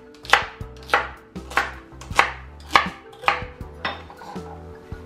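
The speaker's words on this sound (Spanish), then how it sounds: "Y ahora vamos a picar el apio." Celery is chopped with a knife on a board for a seafood soup, a loud close series of about eight evenly spaced crisp chops, each landing with a sharp crunch and thud.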